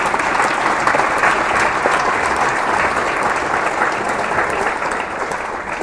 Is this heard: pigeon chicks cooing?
no